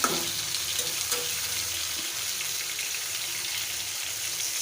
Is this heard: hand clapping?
no